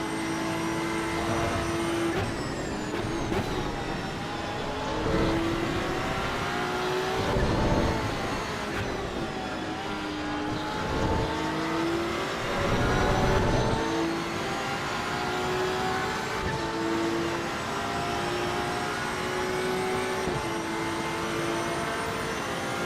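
Race car engines in the racing sim Assetto Corsa EVO, including a Porsche, whine and rev continuously, rising and falling through gear changes with pitch sweeps and brief surges, loud and close, with no talking.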